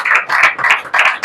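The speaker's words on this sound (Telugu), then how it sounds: "చప్పట్లు పట్టండి అందరూ కలిసి" A church congregation claps in unison in a loud, close, rhythmic beat of about five or six heavy claps, each one a broad smack with brief gaps between.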